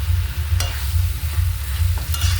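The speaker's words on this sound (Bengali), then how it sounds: "তা কষা হবে মাংসটা, জল দেবো না, এই জলেই সিদ্ধ হয়ে যাবে।" Meat is stirred and braised in its own juices in a hot pan without added water, with loud, close scraping strokes of the spoon over a continuous sizzle.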